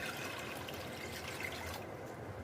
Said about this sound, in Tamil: 1/2 லிட்டர் தண்ணி ஆட் பண்ணிக்கோங்க.